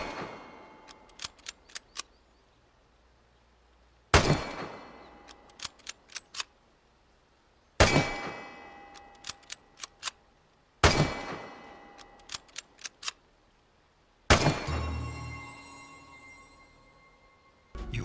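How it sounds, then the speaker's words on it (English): Gunfire at a practice shooting range in the video game Vigor on PS4/PS5: clusters of sharp single shots at a steady pace, broken by several louder, heavier blasts with ringing tails, close and clear with no talking. "Around the shelter you also have a wonderful shooting range where you can practice your shooting skills"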